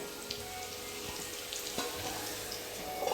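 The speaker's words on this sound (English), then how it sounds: "you can see everything has fried up nicely" Spices fry in a pan on a stove over a low flame for a raw rasam, giving a steady, fairly quiet sizzle with faint crackles throughout.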